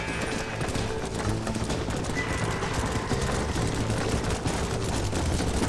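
Rapid hoofbeats of a horse in the video game Red Dead Redemption clip-clop continuously at a gallop, close and steady, with no talking.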